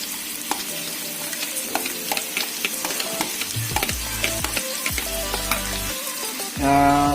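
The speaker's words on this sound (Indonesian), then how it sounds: "kita masukkan kembali nasinya" Cooked rice is stir-fried in a pan for simple fried rice with egg or instant noodles. It sizzles steadily, with repeated spatula scrapes and tosses, and swells into a louder hiss near the end.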